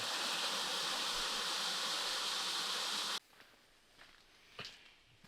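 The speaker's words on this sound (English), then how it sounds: "you can hear the falls, some sort of river running down here" Rushing water from a river running toward falls roars loud and steady in the open air, then cuts off abruptly, leaving quiet outdoor ambience with a few faint footsteps.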